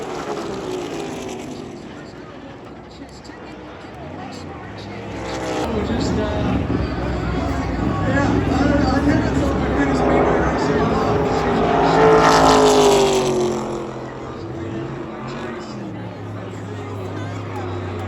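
Cars racing at Talladega Superspeedway during a NASCAR playoff race, the Yellawood 500, make a broad engine roar from the stands that builds to a loud pass-by peak and then fades, with crowd babble underneath.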